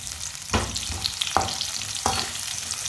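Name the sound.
finely chopped onion frying in oil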